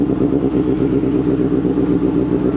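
A 2025 Kawasaki ZX6R motorcycle with an exhaust modification rumbles loudly and steadily nearby, its low, throbbing engine note holding even throughout.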